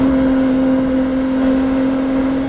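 Turbocharged 850hp V6 in a highly modified Toyota MR2 racing up a hill climb, a steady loud engine drone held at high revs throughout with a strong constant tone.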